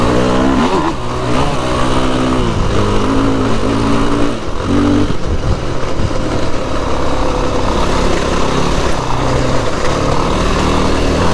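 Yamaha WRF dirt bike engine running continuously while riding out on the way up to Parkamoor, a loud, steady four-stroke drone with rising and falling revs throughout, no talking.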